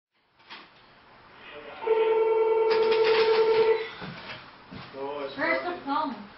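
An indoor telephone gives a short burst of electronic ringing tones, loud and near, followed by a person speaking.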